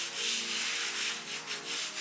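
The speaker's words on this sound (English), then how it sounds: "just get a bit of sandpaper on a block and just make all of this the same sort of height" Sandpaper on a block rubs back and forth over a worktop ply panel to level its dings and dents, a close, steady rasping in repeated strokes.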